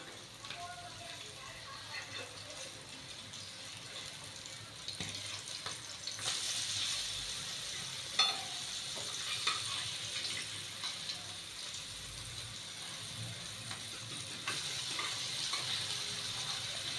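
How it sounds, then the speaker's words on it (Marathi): Mandeli fish frying in oil over a low flame gives a steady, soft hiss and crackle that runs through the whole stretch, with a few small pops and faint clinks, heard close up. "आता ही सर्व मांदेली आपण लो फ्लेमवर ही तीन ते चार मिनटे आपण फ्राय करून घेणार आहोत"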